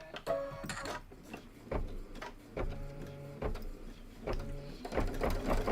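A sewing machine runs in short bursts, stitching a cutting guideline through fabric for a spring-themed sew-along project, with a rapid mechanical whir and tick between pauses, close and clear with no talk.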